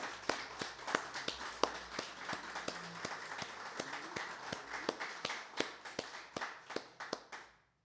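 A church congregation claps together in a fairly steady rhythm, sharp distinct hand claps that are close and clear, slowing and fading out at the end.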